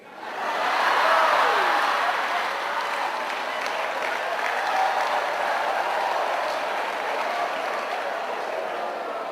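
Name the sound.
audience clapping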